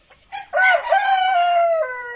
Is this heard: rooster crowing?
yes